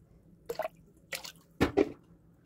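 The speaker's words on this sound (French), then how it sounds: "Je rajoute de l'eau froide." Cold water poured onto soaked chickpeas in a pressure cooker at home, heard as a few short close splashing bursts of liquid against the pot, the last two louder, with quiet gaps between.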